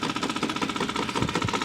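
A homemade three-cylinder solenoid engine runs steadily nearby, its rapid rhythmic clicking and buzzing hum continuous and fairly loud throughout, with a couple of heavier low thumps near the end.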